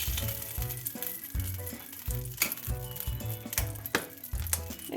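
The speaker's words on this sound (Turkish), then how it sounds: "pankeklerimizi şu şekilde döküyorum." Pancake batter sizzles in a lightly oiled pan, a steady close frying crackle with repeated low knocks and pulses running through it, no voices.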